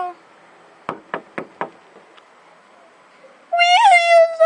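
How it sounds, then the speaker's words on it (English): Four quick raps knock on a door in fairly close succession, followed after a pause by a loud, drawn-out cat meow. "I'm gonna knock on it."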